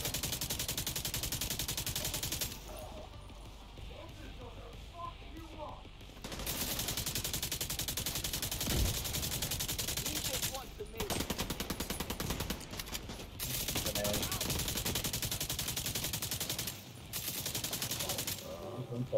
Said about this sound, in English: Three shots right at me.